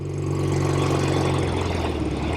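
A 1972 Norton 750 Commando Combat motorcycle engine runs steadily and close by, giving a continuous loud, even rumble with no pauses.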